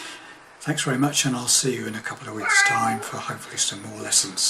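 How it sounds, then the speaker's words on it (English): A house cat meows a few times, briefly and close by, blending in beneath a man's steady spoken sign-off. "That's my cat saying goodbye."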